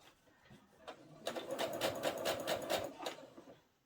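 A sewing machine stitches a mitered fabric corner in a short, quick run of evenly spaced needle thumps, soft and close, rising and then slowing to a stop.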